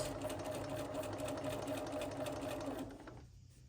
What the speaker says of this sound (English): this is where you're literally sewing your pillow shut